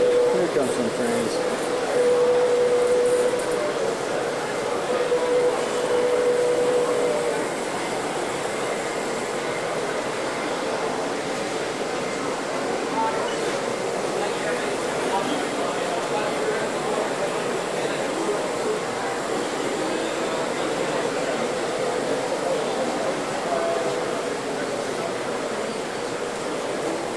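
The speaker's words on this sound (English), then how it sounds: "Here comes some trains." Trains pass by in a steady, continuous rail rumble and hiss that lasts nearly half a minute without any breaks, fairly loud and even throughout.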